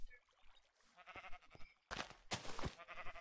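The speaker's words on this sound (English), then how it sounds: "get the sheep over here." Sheep bleat in the video game Minecraft, several short wavering bleats close by, with a couple of brief louder ones near the end and no talking over them.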